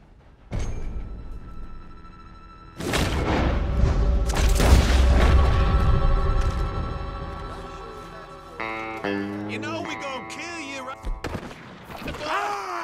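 A loud gunshot booms in Red Dead Redemption 2 during a shooting challenge, a heavy blast with a long rumbling tail, followed by a voice and more game sounds.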